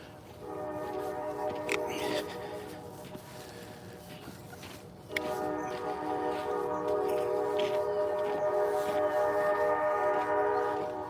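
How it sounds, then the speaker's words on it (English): A distant train horn sounds in two long, steady blasts, with a short gap between them, over outdoor background noise and faint footsteps. "Can you hear the train whistle?"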